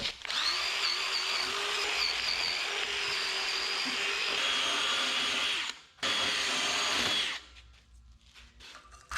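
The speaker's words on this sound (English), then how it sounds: "get your wire wheel" Wire wheel on a power drill cleaning metal before welding, a loud close whining grind that runs steadily, cuts out briefly, resumes, then stops with scattered clinks and rattles.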